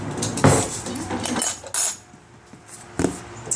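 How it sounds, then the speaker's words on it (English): Cutlery rattles and clinks in a silverware drawer as someone rummages through it, with clustered metallic clatters, a pause, then another jangle, close and fairly loud. "right where your sister got in the silverware drawer."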